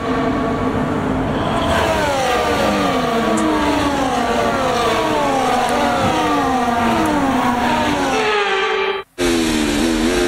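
Several F1 race cars from the F1 24 video game idle and rev on the formation lap, a dense layered engine drone with rising and falling pitch sweeps, loud and steady throughout, with a brief dropout near the end.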